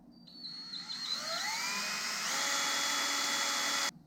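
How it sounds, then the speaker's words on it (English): A power drill with a small bit bores a pilot hole in a stainless steel motorcycle fork tube cover close by, its pitch rising as it spins up, holding a steady high grind, then cutting off abruptly. "It'll be pretty tough to get that 3/16 drill bit through this stainless"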